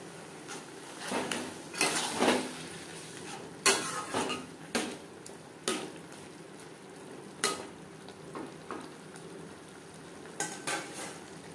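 Chicken liver and gizzard cooking with spices in a pan on a low flame, a steady soft sizzle broken by repeated scrapes and clinks of a stirring spoon against the metal, close and without talk.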